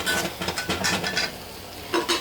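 A spoon stirs mashed boiled eggplant in a pan for an eggplant and hilsa mash. Short bursts of scraping and soft sizzle come in uneven strokes, with a quieter pause midway before a few more stirs.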